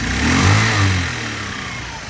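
Honda Dio AF-68 fuel-injected scooter engine running close by, a short rev swelling and settling back to an even, quiet idle, with no one speaking.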